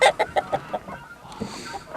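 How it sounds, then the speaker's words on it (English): Chickens in a backyard flock, including a red hen and a White Leghorn, give a run of short clucks, several quick ones at first and then scattered softer ones, heard close. "Oh, chicken."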